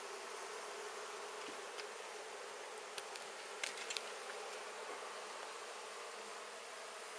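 Honey bees swarm around an exposed hive being removed in McAllen, Texas, a faint, steady, dense buzzing with a few brief louder passes close by.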